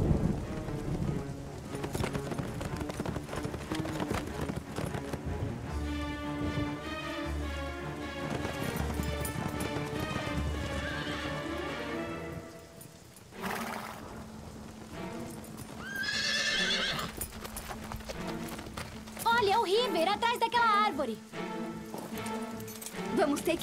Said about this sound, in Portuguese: Espero que os cavalos não estejam muito cansados para puxar.